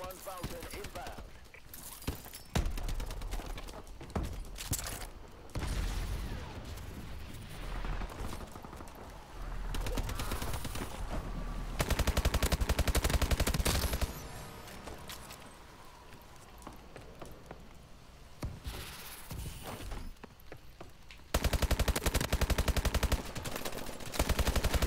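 Rapid automatic weapon fire and explosions from the Call of Duty Advanced Warfare video game, in dense continuous bursts with brief pauses, loud and close, with a player's voice talking over parts of it.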